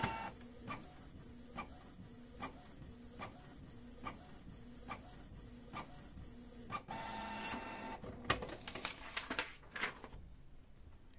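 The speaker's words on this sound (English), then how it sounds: "Let's see with the new nozzle check what's the situation with our printhead." A Canon Pixma G2411 inkjet printer runs a nozzle check print, its printhead carriage ticking in a steady rhythm of sharp clicks, followed by louder whirring and paper-feed rattling near the end.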